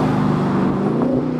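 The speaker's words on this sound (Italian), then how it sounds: "mi sta passando un Dodge" A Dodge car passes at the Monza Motor Show, a steady low engine drone with a slight rise in pitch near the end, heard close and without talk.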